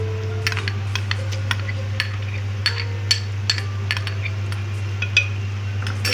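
Ginger garlic paste frying with onions in oil in a pot, stirred with a metal spoon that clinks and scrapes repeatedly against the vessel over a steady low hum, no talking.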